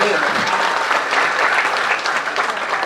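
Audience applause at a Balinese dance drama performance, Cupak ke Suargan at the Bali Arts Festival: a loud, continuous wash of clapping from a big crowd with a voice talking faintly beneath it.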